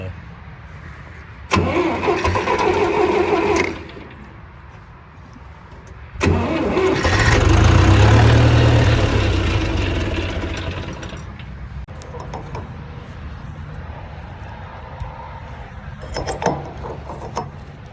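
A John Deere harvest machine engine cranks and catches, dies back, then restarts into a loud low roar that settles into a steady mid-pitched idle, with short bursts of cranking and mechanical rattles up close.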